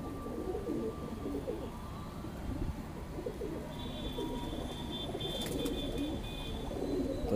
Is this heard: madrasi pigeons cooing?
yes